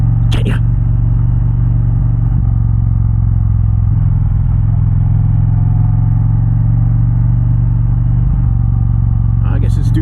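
An Indian Challenger motorcycle with a Rinehart exhaust rumbles loud and deep, holding a steady low throb while riding on Route 202, with a brief wind gust at each end.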